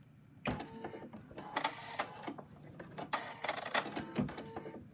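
Domestic embroidery machine stitching the legs of a cat applique on hooped fabric, a fast mechanical needle chatter in uneven bursts with brief pauses, close and moderately loud, no talk.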